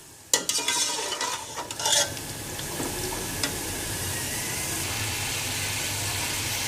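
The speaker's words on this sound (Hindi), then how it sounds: "जितने अच्छी तरह से आप कीमे को भून लेंगे" Minced mutton keema is stirred and fried in a pan: a few sharp scraping strokes of the spoon at the start, then a steady, close sizzle that carries on alone.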